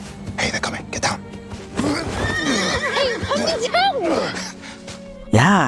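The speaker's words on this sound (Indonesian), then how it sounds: "Seorang perempuan mengikuti dengan kuda putihnya." A white horse neighs and whinnies in a loud, wavering call, with hoof clip-clops and speech-like voices mixed in, ending in a sharp close burst of sound.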